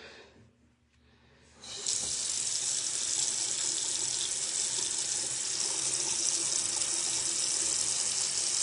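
A faucet turns on after a brief quiet moment and water runs steadily and strongly into a sink, filling the rest of the clip.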